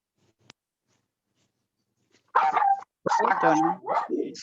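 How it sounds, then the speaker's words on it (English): After a brief click and silence, dogs bark loudly nearby in a few sharp bursts, with yips and whimpering mixed in. "Sorry for my dogs."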